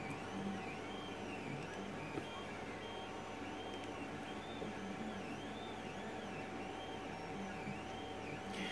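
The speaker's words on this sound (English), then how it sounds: "All right, it's preparing to print." A Creality CR-10 3D printer fitted with a 1 mm nozzle prepares to print, with a steady mechanical hum and faint repeating whine-like stepper motor sweeps throughout, fairly quiet.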